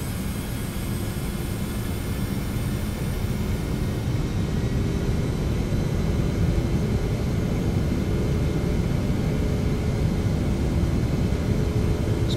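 Boeing 717-200 jet engines spooling up to takeoff thrust in a flight simulator game, a steady broadband roar that swells slightly and holds loud and constant throughout.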